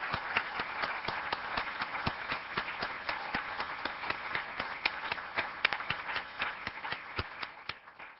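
Audience members applaud board members at a healthcare system's annual meeting, sustained clapping of separate sharp hand claps rolling steadily for several seconds.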